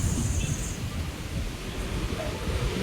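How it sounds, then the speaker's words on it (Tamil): Strong wind roars steadily throughout in Seychelles, a dense low rumble with broadband hiss, loud and continuous with no pauses. "காற்று மட்டும்தான் அப்படி அடிக்குது"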